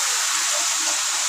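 Potatoes fry in hot oil in a pan, giving a steady, dense hiss and sizzle throughout, close and even in level.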